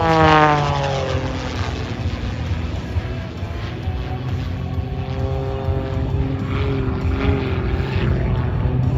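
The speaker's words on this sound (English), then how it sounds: "as our World War II aircraft recover out in front of us, Kim Hildebrand." World War II propeller warplanes fly past at an airshow in Oregon, a loud steady droning roar with a falling pitch as one passes close at the start, then a continuing buzz of engines.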